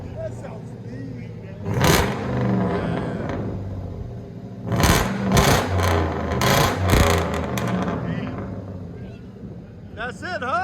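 A 2001 Mercury Grand Marquis with a 4.6L V8 and Vibrant resonators rumbles deeply at idle and revs in several loud bursts nearby, with people talking over it.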